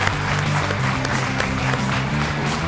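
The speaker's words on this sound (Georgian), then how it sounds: "მაშინ აპლოდისმენტები დამსახურებული" A studio audience on a TV game show breaks into steady, dense applause, mixed with background music.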